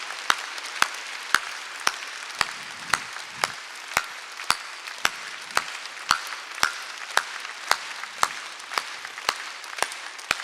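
Church congregation clapping during a Sunday worship service, sharp claps in a steady, evenly spaced rhythm of about two per second, uniform and unison-like throughout, with no talking over it.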